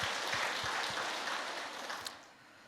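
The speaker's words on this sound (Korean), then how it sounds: "하나님께 영광의 박수." A church congregation at a Friday worship service claps together in a steady burst of applause that fades toward the end.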